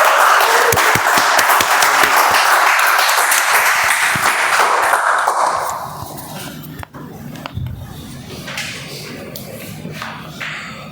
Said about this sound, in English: Please help me welcome with huge round of applause Toastmaster Manoj.